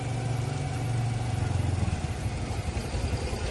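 A Toyota Altis engine idles steadily right after a restart, a close, even mid-pitched hum with faint clatter and no voices.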